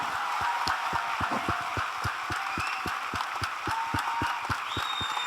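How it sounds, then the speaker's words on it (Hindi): A seminar audience in India claps together in a strong, even rhythm, many hands striking in unison at a brisk pace for several seconds, with a faint background wash of the hall. "आज आप लोग अपने लिए एक बार तालियां बजाओ यार।"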